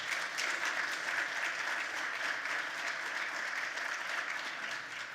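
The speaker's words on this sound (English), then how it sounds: "So one more round of applause, please." Audience applause at a governor's public event on tax fairness in Westchester County, a sustained, even roar of many hands clapping, somewhat distant and soft, tapering slightly at the end.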